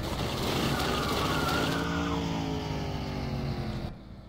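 A car engine in the video game The Long Drive idles and drones steadily, then its pitch sweeps down and settles into a lower rumble before cutting off abruptly.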